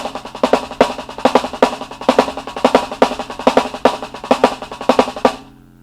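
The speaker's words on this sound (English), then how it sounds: "If you play it fast on the snare, it sounds like this." Rapid snare strokes in a fast, repeating crossover triplet pattern with regular accented hits, close and crisp, played alone and ending abruptly.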